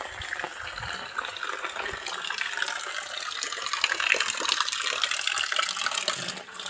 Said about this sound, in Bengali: পানি বার হয়ে যেতেছে